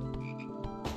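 Frog croaking in a video game, a series of bursts packed close together over about a second, loud and alone with no talk.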